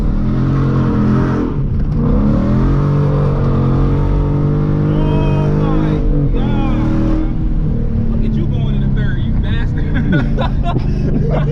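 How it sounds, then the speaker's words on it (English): Ford Mustang GT V8 being revved while street drifting, a loud engine roar that rises and falls in pitch repeatedly, heard from inside the car with people talking over it. "I need to rev it up some more."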